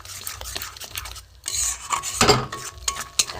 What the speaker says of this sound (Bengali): নেড়ে নেড়ে রান্না করে করে একদম শুকনো মতো হবে